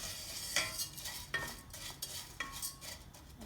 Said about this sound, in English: I'm going to slightly brown this Orzo pasta in the butter.